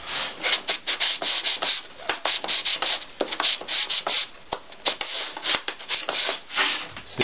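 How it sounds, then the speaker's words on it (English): A shooting sander is rubbed back and forth along a wood edge in quick, uneven scratchy strokes, close and fairly loud, with no talking. "So you can hit that with a sandpaper to get a really fine true edge."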